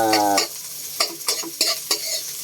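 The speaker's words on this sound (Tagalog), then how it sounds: "Igisa lang natin yung sibuyas." Onion sautéing with ginger in a pan for chicken tinola: a brief tonal hum opens, then close, sharp spatula scrapes and stirs land in an uneven rhythm over a steady crackling sizzle.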